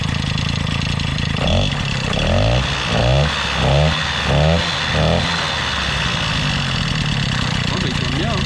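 A Peugeot 103 moped fitted with an Airsal 65cc T3 engine runs steadily nearby on its first start, a continuous two-stroke drone with a few brief revs in the middle while people talk over it.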